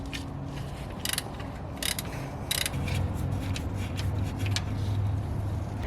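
A socket wrench with a 24 mm socket loosens the transmission fill plug on a Gen 2 Toyota Tundra, giving a few faint, spaced ratcheting clicks over a low background hum.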